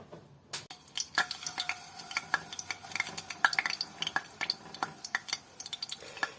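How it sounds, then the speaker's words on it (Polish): Zucchini pancakes fry in hot oil in a pan, a faint steady sizzle broken by scattered clinks and scrapes of a spoon against the pan. "Grzejemy olej na patelni i będziemy smażyć placki."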